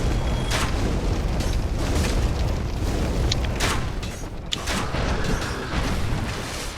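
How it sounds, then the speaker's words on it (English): A boar enemy in the Dark Souls HD video game catches fire and bursts, with heavy booming, rumbling blasts and crackling impacts filling the scene loudly and continuously, several sharp bursts rising above the roar. "This Boar, I think if you go here, he'll set himself on fire."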